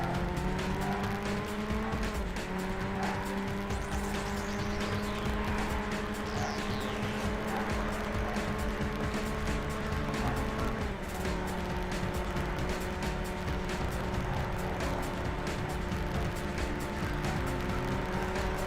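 Race cars in Burnout roar off the start, engines revving up through shifting gears with tire squeal, a steady loud drive that goes on with no break.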